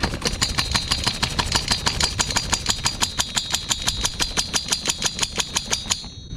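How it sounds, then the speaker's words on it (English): An HPI Savage X4.6 nitro engine gives a rapid, loud, even series of mechanical pulses for about six seconds, matching a pull start cord being drawn on it. "Notice I'm not pulling the pull start cord out too much."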